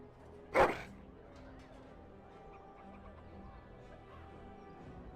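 A dog in the video game Dragon Age: Origins gives a single sharp, loud bark near the start, followed by quiet, low game ambience.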